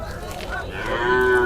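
Sahiwal calves at a cattle market low out in a close, drawn-out moo that swells and holds steady near the end, over a busy background murmur.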